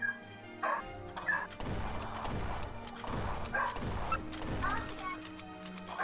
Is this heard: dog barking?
yes